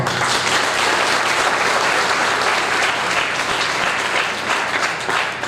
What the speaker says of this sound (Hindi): तो वो तालियों के काबिल है।